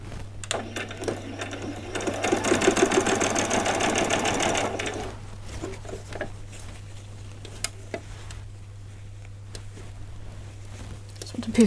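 A sewing machine runs a short back stitch on veterinary scrubs fabric, a rapid mechanical chatter lasting a few seconds, then quieter handling noises while a person speaks.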